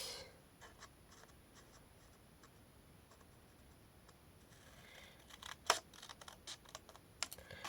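Scissors cut scrapbooking paper for a handmade box, faint quiet scratching with a few soft clicks and snips growing slightly louder toward the end, no talking.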